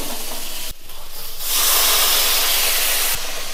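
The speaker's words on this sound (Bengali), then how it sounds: "সামান্য একটু জল দিই।" Water splashed into a pan of frying boiled potatoes bursts into a loud, steady hissing sizzle that swells after a brief dip and holds for a couple of seconds before cutting off.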